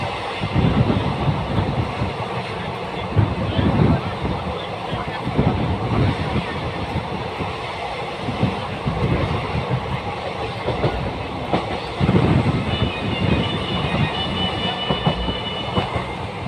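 A passenger train moving along toward Jagiroad in Assam, its steady rumble and rhythmic wheel clatter continuous and close throughout from inside the carriage, with faint background murmur of passengers.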